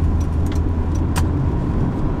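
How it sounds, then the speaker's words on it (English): Road traffic in Seoul, a loud steady rumble of vehicles nearby with faint metallic clinks on top and no voices. "Oh, some traffic going on."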